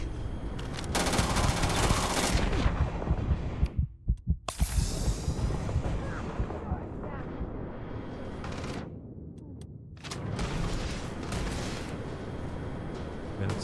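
Sustained rapid gunfire from a sci-fi shootout in Starfield, dense bursts of shots roaring near and loud with brief lulls, continuing almost without pause across the stretch.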